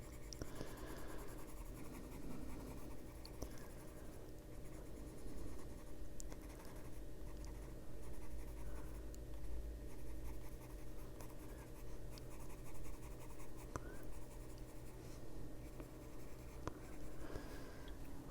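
Colored pencil scratching and blending on paper in steady, close strokes, a soft continuous scribbling texture with brief pauses, no voices.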